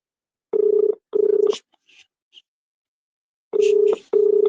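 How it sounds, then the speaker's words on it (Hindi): Telephone ringback tone on an unanswered call, repeating in steady paired bursts with short gaps between the pairs, clear and alone, with a few faint clicks in the pause. "फोन जा रहा है, फोन पिकअप नहीं हो रहा है।"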